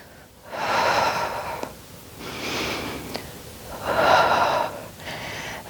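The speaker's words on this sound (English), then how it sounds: "Nice big inhale and exhale." Four deep breaths during a Pilates workout with weights, loud and close: long airy inhales and exhales alternate in a slow, even rhythm, with a short gap between each.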